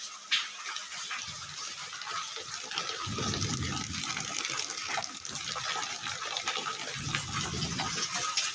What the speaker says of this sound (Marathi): आज अमरावती जिल्हा आणि धामणगाव तालुक्यामध्ये जोरदार पाणीला सुरुवात झाली आहे